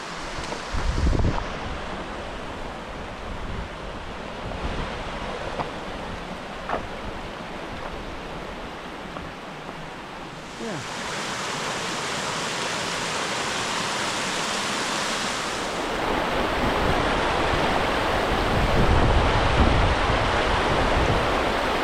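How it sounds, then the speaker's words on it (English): Siyeh Creek in Glacier National Park, a steady rushing wash of flowing water heard close by, growing louder partway through with occasional bumps and faint wind. "This is Siyeh Creek."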